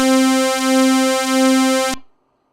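A single sustained buzzy synth lead note made from a saw wave and a square wave through a low-pass filter, bright and harmonically rich, holding steady for about two seconds before stopping abruptly.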